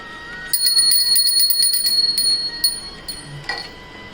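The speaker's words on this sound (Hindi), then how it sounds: "उससे पहले हम घंटी बजाते थे भोग लगाने से पहले" A small brass ritual hand bell rings rapidly and continuously before a Hindu food offering to Laddu Gopal, bright and close, for a few seconds before tapering off with a couple of final strokes.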